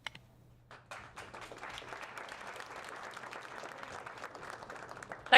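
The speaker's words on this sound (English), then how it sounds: "Clap for me a little bit more." A crowd applauds steadily, many hands clapping in a dense, even patter that starts after a moment of quiet and carries on.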